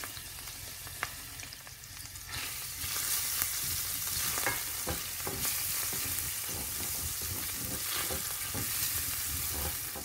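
Three cloves of chopped garlic hit the oil left from cooking merguez sausages in a pan, setting off a loud, continuous sizzle with a few sharp clicks of stirring.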